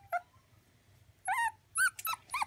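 Chocolate Havanese puppy whimpers in a few short, high, wavering yips, a brief cry near the start and a cluster of quick squeaky whines toward the end, close and fairly quiet with no talking.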